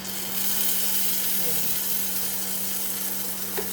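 Steady frying sizzle of sautéed ricado in a small pot, a continuous close hiss with a faint low hum underneath and no talking.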